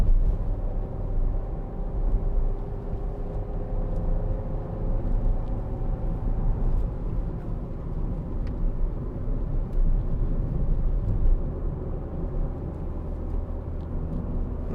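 A 2012 Kia Venga 1.4 petrol engine drones steadily while the car drives uphill, a constant low rumble mixed with road and cabin noise, with faint whining tones briefly rising over it.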